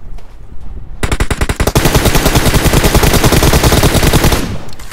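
Rapid automatic gunfire in a battle-royale shooter game, a dense continuous burst of shots starting abruptly after a second of quiet and hammering loudly and close for over three seconds before cutting off.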